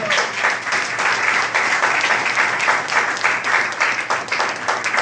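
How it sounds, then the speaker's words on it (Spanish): A church congregation breaks into sustained applause, dense and even throughout with no pauses, with clapping close and loud. "Un aplauso al que vive"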